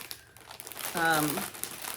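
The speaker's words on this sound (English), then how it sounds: "plastic bags and seal them up so they don't get dog hair or anything else on them" A plastic bag holding hand-knitted gifts crinkles and rustles as it is handled up close, with a voice speaking over part of it.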